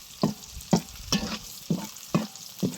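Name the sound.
greens sizzling while being fried before adding shrimp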